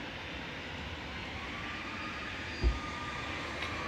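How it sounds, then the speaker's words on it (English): Iberia airliner departing Manchester Airport for Madrid, its jet engines giving a steady, fairly distant roar with one brief thump partway through. "Iberia's next up for departure over to Madrid with flight 3693."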